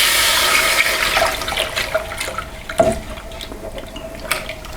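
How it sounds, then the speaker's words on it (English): Milk poured all at once into a cooked flour and butter roux for an Italian restaurant béchamel, a steady liquid splashing and gushing that stays loud throughout, with small clinks and drips on top. "Next thing to do is to add the milk, and important thing the chef tells me is to add the milk all at once, not in stages"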